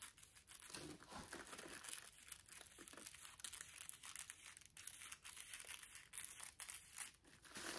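Paper crinkles and crumples close up in quick, dry bursts, continuing steadily and fairly quietly, during scrapbook junk-journal collage work.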